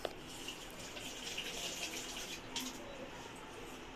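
Soft, quiet stream of water running into a vessel holding tea powder, a faint continuous splashing with a small knock at the start.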